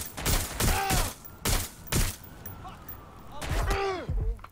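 A dart gun fires in a video game in several quick bursts, some landing in pairs. Voices or vocal groans overlap the shots against a busy background.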